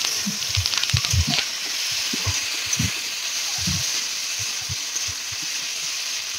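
Potatoes fry in a pan for a vegetarian aloo paneer, with a moderate steady sizzle and hiss broken by soft, irregular low thuds and knocks.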